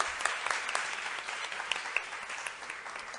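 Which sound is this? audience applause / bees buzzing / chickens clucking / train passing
audience applause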